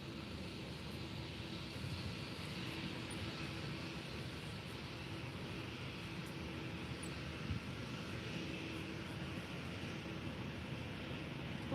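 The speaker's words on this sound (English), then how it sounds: "Here we got a Ryanair 737-800." A Ryanair Boeing 737-800 at Faro Airport gives off a faint, steady, distant jet engine hum across a quiet early-morning airfield, with no one talking.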